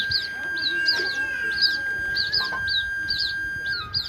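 Birds with chicks give short, high chirps in repeated bursts, some close together, over a thin steady whine and a soft outdoor background.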